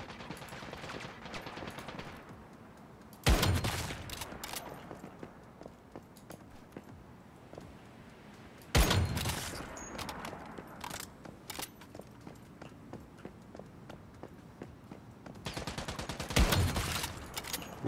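Long-range rifle shots in the online survival shooter Once Human, three sharp loud cracks spaced several seconds apart over a steady rumble of movement.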